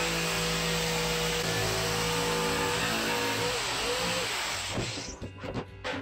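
A steady, loud motorized buzz of a jigsaw plunge cutting into MDF, with a shifting pitch, then breaking into uneven bursts and stopping near the end.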